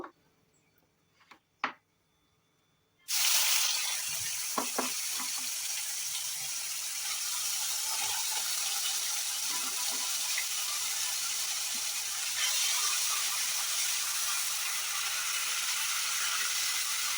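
Ginger, onion and garlic paste drops into oil with spices already frying, for a yogurt fish curry. A few quiet taps come first, then a sudden loud, continuous hiss and sizzle that carries on steadily.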